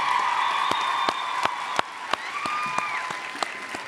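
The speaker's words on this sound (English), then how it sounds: "can we give our faculty, our great faculty, a round of applause again?" Steady applause from a crowd at a nursing white coat ceremony fills the whole stretch, with a few sharper individual claps popping out above the dense clapping.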